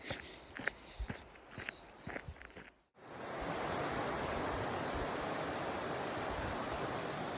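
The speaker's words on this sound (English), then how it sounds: "Nothing but the crunch of dirt underfoot" Footsteps crunch on a dirt trail in the Olympic backcountry, several close, distinct steps for a few seconds before a loud, steady rush of a nearby river takes over.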